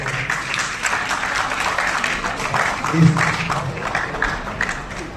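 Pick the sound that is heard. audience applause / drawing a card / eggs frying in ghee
audience applause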